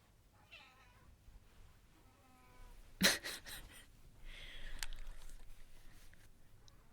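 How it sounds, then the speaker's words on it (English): A house cat meows a few times at low level in a quiet indoor room, soft short cries spaced apart with a sharp bump in the middle and faint background noise. "If you hear my cat, I apologise."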